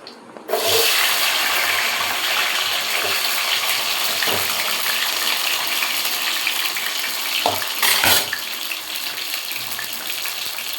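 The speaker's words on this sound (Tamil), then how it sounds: "இந்த வெங்காயம் வந்து நல்லா வதங்கணும்." Shallots and curry leaves sauté in hot oil at home, giving a loud, continuous hissing sizzle with occasional sharper bursts of clatter, with no talking.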